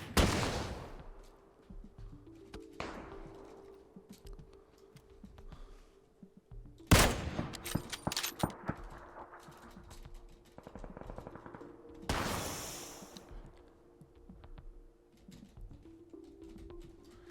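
Scattered bursts of gunfire in the video game PUBG, some sharp single shots and a few short rapid volleys, separated by quieter stretches with a faint steady hum underneath.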